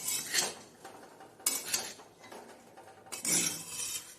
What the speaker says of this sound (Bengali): এই যে সামান্য একটু নুন দিয়ে নাড়াচাড়া করে ঢাকা দিয়ে দেবো